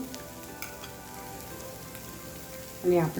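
Soya chunks fried rice being stirred in a pan, a soft crackling sizzle with light scraping under a quiet voice, swelling into a louder burst of stirring at the end.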